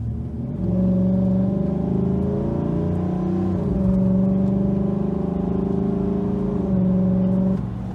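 A 2019 Chevrolet Silverado engine breathing through a K&N 63 Series Aircharger intake revs up and holds steady, loud and close with a deep droning hum and rising and falling tones, no voices.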